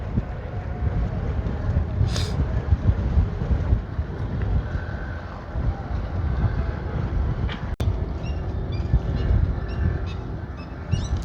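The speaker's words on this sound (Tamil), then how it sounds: "இப்போ எங்கிட்ட வேகமாக ஒரு போட் ஒன்று போய்கொண்டு இருக்குது" A fast boat passes near a night fish market in Jaffna, heard as a steady low engine rumble mixed with wind buffeting the microphone, with a sharp click partway through.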